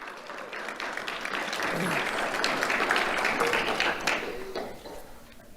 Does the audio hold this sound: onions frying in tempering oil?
no